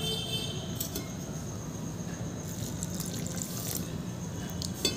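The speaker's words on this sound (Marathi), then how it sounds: "यामध्ये थोडंसं पाणी घालायचं आहे।" Water poured into gram flour batter in a home kitchen, a steady broad wash of pouring and splashing that runs unbroken at an even level, close and alone with no talk.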